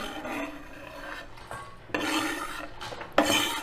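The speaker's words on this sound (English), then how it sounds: "Clean off my cutting board quickly" A knife scrapes vegetable scraps off a cutting board in a kitchen, rough rasping strokes in short bursts, a few quieter passes followed by louder, sharper scrapes near the end.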